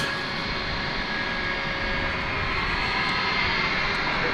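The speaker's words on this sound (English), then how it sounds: "Here comes that 757 we saw earlier." A Boeing 757 jet at DFW airport at night, its engines giving a loud, steady roar that holds evenly throughout.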